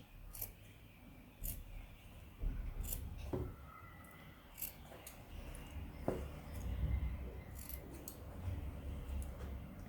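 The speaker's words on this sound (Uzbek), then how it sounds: "Bu ham ehtiyotkorlik bilan qirqim beramiz." Scissors snip carefully through fabric for a small girl's dress, giving a series of faint, crisp, irregular cuts close by in a quiet room.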